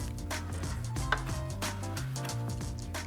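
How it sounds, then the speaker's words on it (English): Fresh rosemary sprigs chopped on a board for vegan olive bread, a quick run of close knife taps over a few seconds, no talking. "and finally chop our rosemary"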